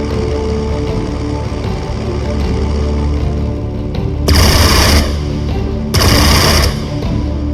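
Fighter plane gunfire in the strategy video game Strategic Mind Blitzkrieg, two loud, dense bursts of rapid fire each lasting about a second, over a steady low engine drone.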